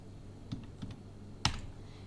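A few soft keystrokes on a computer keyboard, then one sharp, louder Enter press, close by and with no talking.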